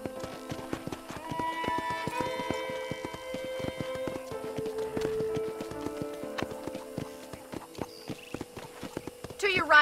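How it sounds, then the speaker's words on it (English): Horse hooves clip-clopping steadily in a Red Dead Redemption video game ranch setting, a rapid rhythmic series of close hoof impacts layered with music and occasional talk. "let's see if you can still ride a horse"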